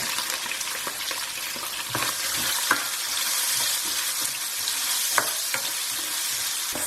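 Onions sizzle and crackle in hot oil with cumin seeds for a restaurant-style chicken handi, a steady close frying hiss with occasional stirring clicks and no voices.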